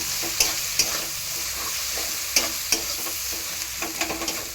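Spatula scrapes and taps punctuate a steady low sizzle as mustard-poppy paste with turmeric and chilli powder is stirred in a frying pan, a few distinct strokes spaced irregularly over the frying hiss, with no voices.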